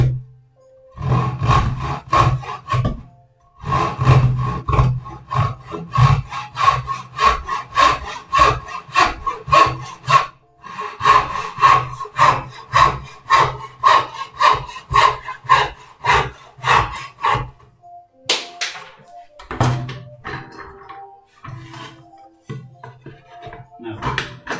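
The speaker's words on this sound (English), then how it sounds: "Two saw cuts down on the X sides here on the other joint." A hand saw cuts through a wooden board clamped in a bench vise, with long runs of steady rhythmic back-and-forth rasping strokes, close and fairly loud, broken by a few short pauses and some handling noise.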